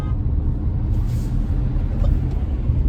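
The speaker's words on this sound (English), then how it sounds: "I'm driving my car right now." A car's interior drone while driving: a loud, steady low engine and road rumble with faint higher road noise, no voices.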